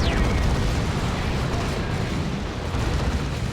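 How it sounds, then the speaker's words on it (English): Heavy lascannon fire in the Warhammer 40,000: Dawn of War 2 battle, with Land Raiders and a Phobos nearby, forms a loud, continuous wash of booming blasts and rumbling explosions that runs throughout without pause. "More las cannon shots on the Phobos."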